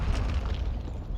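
A cruise missile explodes in Call of Duty: Modern Warfare 2, a brief heavy, rumbling boom filling the low end.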